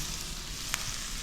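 Garlic, onion and chili sizzling in hot oil in a pan, a steady close hiss filling the short stretch with a faint stir near the end.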